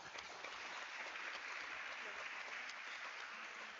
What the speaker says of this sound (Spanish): Le brindemos un fuerte aplauso.